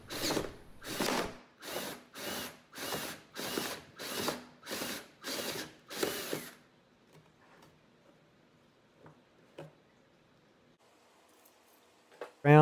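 A hole saw bores a 1.5 to 2 inch hole through the side of a plastic tote, right on a bend of the wall, in about nine loud, evenly spaced drilling bursts, followed by near silence with a few faint knocks.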